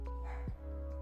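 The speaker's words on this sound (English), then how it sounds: "I apologize if you can hear my dogs in the background barking" Dogs bark in the background, one short bark standing out midway over a steady low hum, somewhat distant and brief.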